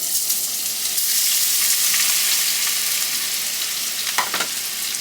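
Twelve eggs crackle and sizzle loudly in a hot pan for a breakfast brunch, a dense continuous fry with brief sharper spatters near the end and no voices.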